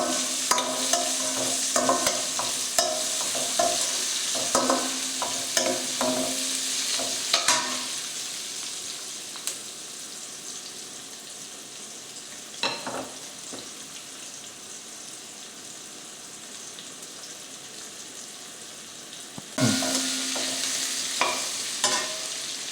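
Chopped onion and carrot sizzle steadily in a pan for peas pulao, with repeated metal spoon scrapes and stirring clatters, close and continuous, with a few sharper stirs late on.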